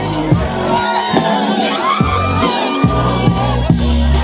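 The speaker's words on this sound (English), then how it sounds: "Little round of applause" Guests at a wedding party cheer and whoop, with scattered shouts and thumps over what sounds like music with a steady beat. The crowd noise is loud and fairly close throughout.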